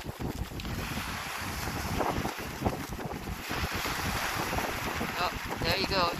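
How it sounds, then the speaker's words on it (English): Strong beach wind roars and buffets the microphone in a continuous rough rush, with a faint wash of surf beneath it. "the wind is so strong"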